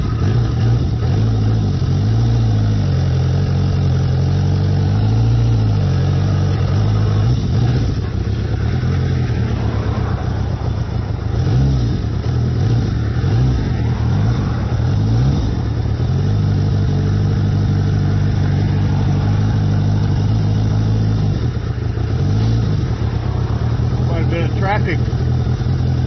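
Motorcycle engine droning steadily on a cold, snowy first ride of the year on West Michigan roads, with low rumbling road and wind noise throughout and occasional rises in revs.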